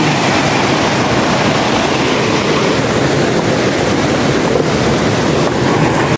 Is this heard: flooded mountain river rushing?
yes